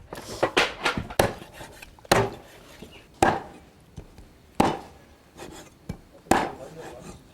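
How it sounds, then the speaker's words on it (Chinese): A rabbit is chopped into pieces for Bishan-style rabbit, with about half a dozen sharp, close blade strikes on a wooden board at uneven intervals and brief scraping and shuffling between the blows. "来给它大卸8块儿"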